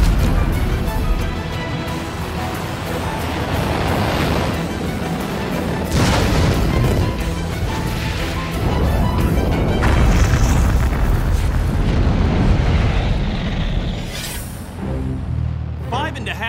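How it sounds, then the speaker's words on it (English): A four-stage Juno rocket carrying the Explorer S-1 satellite roars through launch and a range-safety self-destruct, heard as a sustained loud, dense rumble with repeated booming bursts and crashes throughout. "the rocket pitches over, and the range safety officer issues a command to self-destruct"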